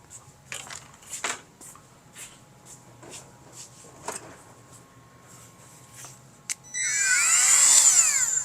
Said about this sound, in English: Just used a Dremel.